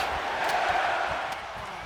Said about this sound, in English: in this sold-out London crowd, singing along with Knight for the megastar elbow drop